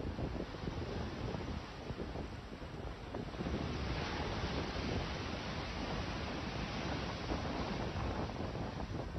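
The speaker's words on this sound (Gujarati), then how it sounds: "સામાન્ય કરતાં વધારે ઊંચા મોજા ઉછળતા જોવા મળ્યા." Rough sea at Tithal beach in Valsad: high waves surge and crash in a continuous roar, mixed with heavy wind buffeting the microphone.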